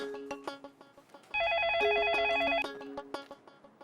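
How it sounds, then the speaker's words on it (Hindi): A landline telephone rings with a warbling electronic trill for about a second and a half, set amid clattering household sounds and brief knocks in a sitcom scene. "अब टेलीफोन तो सुन लो, कब से बज रहा है"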